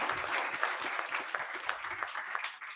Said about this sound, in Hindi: ताली बजाओ या बच्चों तुम लोग